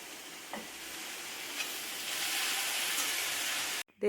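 Fish fried in a pan after being flipped gives an even, close sizzle with a few small pops, growing slightly louder before a sudden knock cuts it off.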